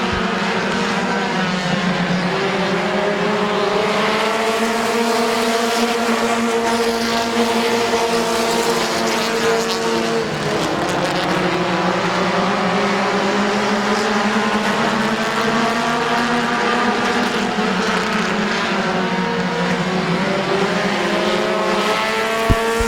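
Race cars lap Midvale Speedway, their loud engines droning and wailing together in layered pitches that rise and fall through the turns, a continuous close roar with no break.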